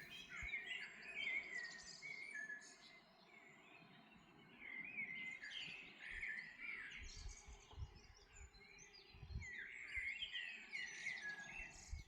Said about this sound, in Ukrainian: пташки не давали мені спати. Лише послухайте, як вони співають